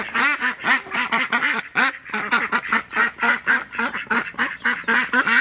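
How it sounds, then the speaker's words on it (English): Many ducklings quacking and peeping at once on a pasture farm, a dense, continuous chorus of overlapping calls close by. "Look, we got some ducklings."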